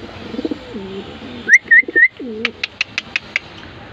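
Several soft, low coos from male pigeons in a rolling rhythm, followed by a few brief higher chirps and a short series of sharp clicking notes.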